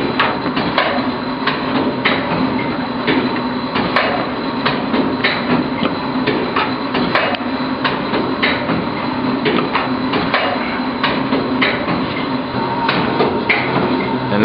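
A machine running on a single stationary piston thumps in a steady, repetitive mechanical rhythm with regular sharp impacts, loud and close throughout.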